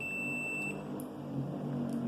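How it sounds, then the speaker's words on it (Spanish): A steady high electronic tone sounds continuously, like a multimeter's continuity beep, over a faint low hum. "vamos a seleccionar el bip"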